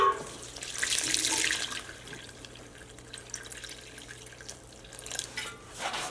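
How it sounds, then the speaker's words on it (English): Tap water runs while house plants are being watered: a strong rushing flow for the first two seconds, then a quieter trickle with faint drips and small splashes. "We gotta water this one here, Michael's stuff"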